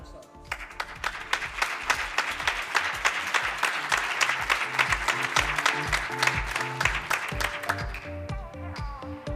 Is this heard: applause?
yes